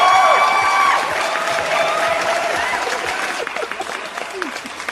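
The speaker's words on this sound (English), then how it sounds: "I will give you a nice a little clap." A burst of clapping and cheering from a crowd, loud at first then thinning out over a few seconds.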